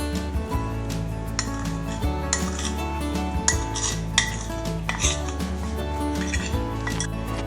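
Spoon scraping and clinking in a bowl while ginger paste, garlic paste, fennel powder and black pepper powder are mixed together, a steady run of close metallic taps and scrapes over a low background hum.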